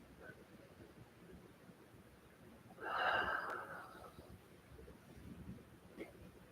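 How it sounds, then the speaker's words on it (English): One deep breath during a yoga session, a single audible exhale of about a second, rising out of a quiet, faintly noisy room. "Taking a few deep breaths here"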